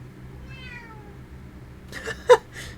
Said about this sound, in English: was the cat being loud?